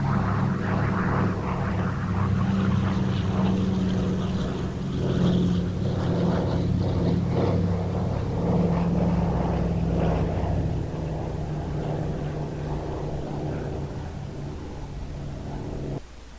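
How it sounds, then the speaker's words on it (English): DC-3 propeller aircraft flying, a loud sustained engine drone with a strong low propeller throb, holding steady before easing slightly as the plane passes, alone without voices. "they're aided by mosquito control district helicopters and DC-3s"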